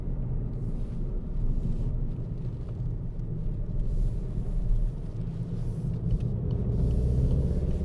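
Volkswagen Golf diesel estate on the move, a low steady engine rumble with road and tyre noise, fairly even throughout and heard without talk.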